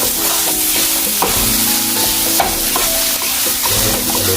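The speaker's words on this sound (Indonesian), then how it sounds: "saya masukkan ke sini ya, langsung ditumis" Ingredients, including 100 grams of a seedy addition, are stir-fried in a pan: a steady, close, loud sizzle with scraping spatula strokes and knocks throughout, no talking.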